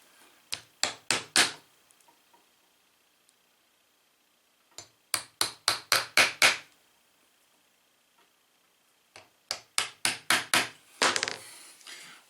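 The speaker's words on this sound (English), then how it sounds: "So I'd use the hammer just to pound that down in there." A hammer drives tight-fitting wooden dowels into a wooden fly tying bench in three bursts of rapid, sharp, close blows, with brief pauses between the sets.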